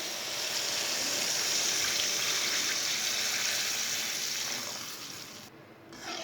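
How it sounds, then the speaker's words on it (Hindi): Water pours steadily into a cooking pot while pulao is being made, a continuous soft gushing stream that holds for several seconds and then tapers off near the end. "तीन गिलास पानी डाल लेंगे।"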